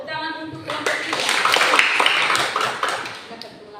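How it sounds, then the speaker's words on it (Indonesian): Students in a classroom clap for a presenting group, a brief round of many hands at moderate volume that rises and tapers off, with voices mixed in. "Ya, tepuk tangan untuk kelompok 3."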